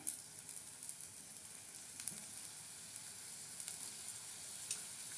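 Chopped big onions sizzle in hot oil in a pan, a steady close hiss with faint crackles and a few soft stirring clicks, alone without talk.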